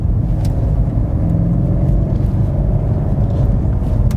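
Steady, dense engine roar from a 2018 BMW M5 F90 held at high revs while driving, a continuous loud rumble without pauses or talk.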